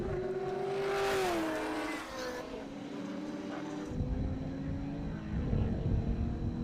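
Holden Commodore touring cars race at Winton Motor Raceway, one engine droning past and its pitch sliding down before further engine noise rumbles in the background.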